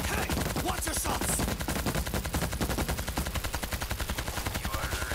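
Rapid automatic gunfire rattles on without a break in the zombie shooter World War Z: Aftermath, loud and dense with fast repeating shots throughout.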